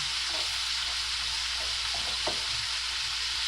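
A whole head of onions fries in a pan, making a loud, steady sizzling hiss that holds without a break and has faint crackles running underneath.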